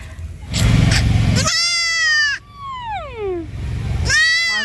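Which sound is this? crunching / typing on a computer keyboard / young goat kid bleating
young goat kid bleating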